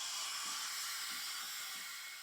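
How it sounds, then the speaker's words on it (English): A coffee machine's steam wand hisses steadily through a jug of cold water with a drop of detergent to clean the frother, a continuous loud airy hiss with no speech. "and then we're just going to steam that."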